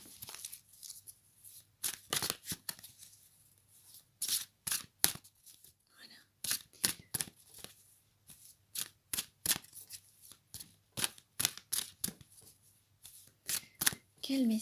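Oracle cards shuffled by hand in repeated crisp riffles and slaps, close and fairly loud, in a steady uneven rhythm with a soft voice speaking now and then.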